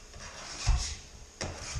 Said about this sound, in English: Using Rhonda's Christmas gift, I'll use this scraper